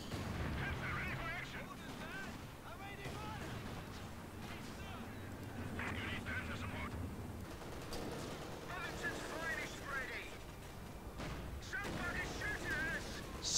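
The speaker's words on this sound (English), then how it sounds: "Somebody's shooting at us." Gunfire and artillery from the World War II strategy game Company of Heroes 2, with bursts of shots and booms running steadily beneath continuous commentary voices.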